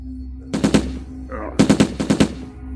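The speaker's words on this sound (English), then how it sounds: "And then I heard the shots." Gunshot effects in an audio drama about surviving robots and zombies: two loud, rapid bursts of shots, the second longer, over a low steady hum.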